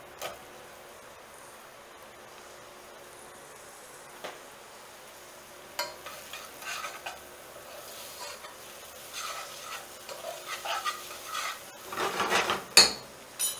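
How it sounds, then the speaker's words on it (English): Onions hit a hot pan of spices for chana masala, faint crackle at first building into denser sizzling and scraping stirs toward the end, with a few metallic knocks. "we're gonna bring the temperature in the pan down by adding our onions."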